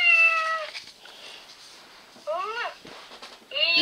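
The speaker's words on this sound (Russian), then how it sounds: "Кот." A cat meows loudly several times, with a long call at the start, a rising and falling meow midway and another at the end, heard close with no talk over it.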